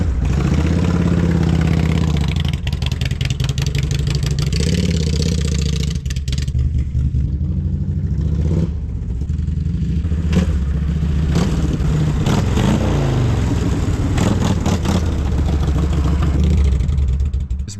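A Harley-Davidson motorcycle engine running loud and close, a steady low idle rumble broken by repeated throttle revs that rise and fall, with mechanical clatter throughout.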